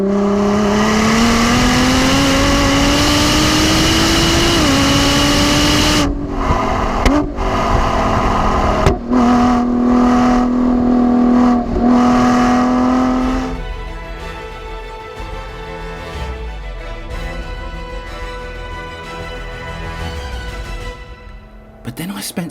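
A Ford GT supercar engine is driven hard on a track, loud and close with a rising revving drone and sharp gear-change breaks, then settling into a lower, rougher note.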